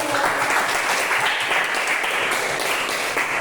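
A class of children claps steadily and loudly throughout, a dense sustained round of applause with no break.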